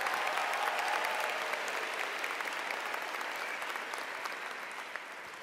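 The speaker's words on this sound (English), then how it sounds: "So give them a bigger round of applause." Sustained applause from a large crowd at a high school graduation ceremony fills the clip, a dense, even wash of clapping that slowly tapers off.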